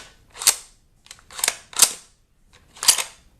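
A Savage Axis rifle bolt is worked with force to extract a round, giving four sharp metallic clacks, close and distinct, spaced unevenly with quiet gaps between them.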